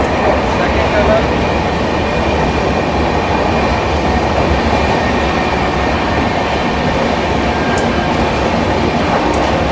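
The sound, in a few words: Indian Railways train running through a tunnel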